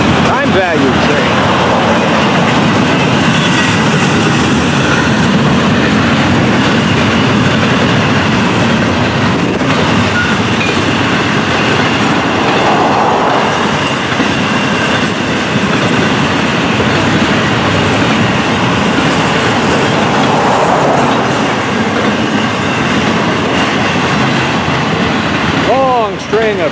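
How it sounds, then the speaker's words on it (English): A loud double-stack freight train roars past close by for a long stretch, wheels clattering and squealing over steady rumble, with wind noise and a voice talking over it. "Double stacks on this train, the 105, the hot train."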